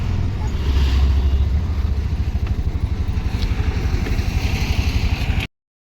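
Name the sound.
road traffic with motorcycles and cars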